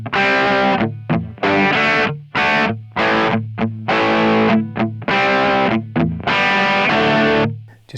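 A distorted electric guitar playing a riff slowly, loud chugging chords in short rhythmic bursts with brief gaps between, up close and without voices.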